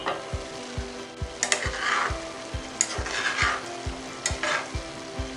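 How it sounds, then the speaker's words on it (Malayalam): A spoon stirs fish curry in a pan on a low flame, and the gentle sizzle runs under a steady run of soft, regular scraping strokes close by. No one speaks. "ജസ്റ്റ് ഒന്ന് മിക്സ് ചെയ്ത് കൊടുക്കാം."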